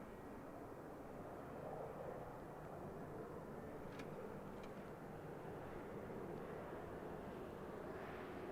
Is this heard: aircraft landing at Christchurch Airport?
yes